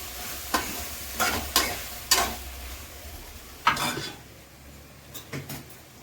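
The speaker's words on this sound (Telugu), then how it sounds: "ఇట్లా బెండకాయలని ఇట్లా ఫ్రై చేసుకోవాలి" Okra being stirred as it fries in a pan, with a soft background sizzle and several distinct metal spatula scrapes and clanks against the pan, spaced irregularly, close and alone.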